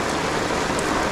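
Steady rain falls in a dense, even hiss, close and constant throughout, with no voices.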